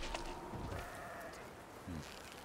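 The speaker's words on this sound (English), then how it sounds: "I gotta kill this goat quick." A goat in the video game Horizon Forbidden West gives a short bleat, faint and brief, amid a busy outdoor game soundscape.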